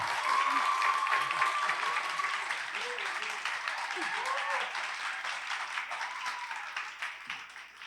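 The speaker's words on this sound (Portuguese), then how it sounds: "Então, vamos ver palmas para a Alice." Applause for Alice at the closing of a judiciary memory week event, an audience clapping loudly at first and tapering gradually, with a voice speaking through the fading claps.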